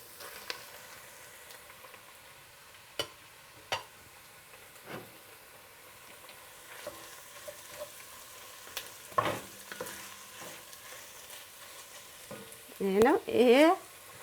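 Meat added to onions frying in a pan for Ethiopian gomen be siga key wet: a faint sizzle with scattered utensil knocks, then a louder stirring scrape near the end.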